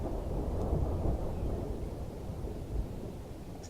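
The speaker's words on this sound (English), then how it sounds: "Thunder rumbles outside." Low thunder rumbles steadily outside in the video game The Uncle Who Works For Nintendo, a dense, muffled roar that stays fairly even throughout with no voices.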